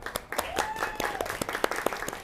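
A crowd at a company New Year's event claps in a burst of applause, sharp scattered hand claps over a couple of seconds, fairly close and lively.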